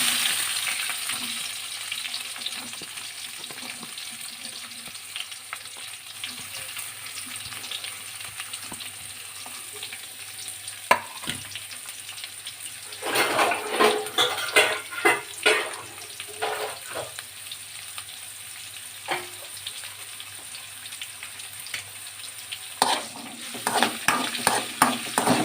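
Onions fry in hot oil with curry leaves and are stirred, giving a soft background sizzle broken by louder scraping stirs and crackling bursts, close by and without speech.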